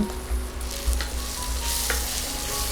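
Masala paste frying in oil inside a pressure cooker, a close, dense, continuous sizzle with occasional scraping stir strokes and soft knocks, heard alone with no talking.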